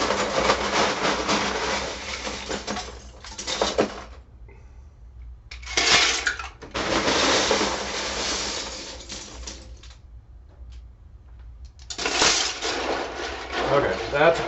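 LEGO pieces packed into a full container being stirred, giving bursts of dense plastic clattering and rattling separated by quiet pauses, close and fairly loud.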